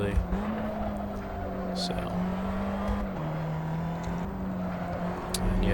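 Open-wheel LFM F4 race car in Assetto Corsa droning at high speed, a steady engine tone shifting pitch with brief tire scrub, under a speaking voice.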